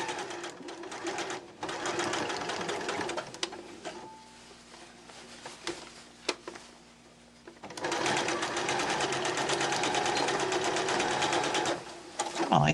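A sewing machine stitches a beginner fabric bag in steady, loud bursts, pausing briefly in the middle with quieter handling before running again continuously.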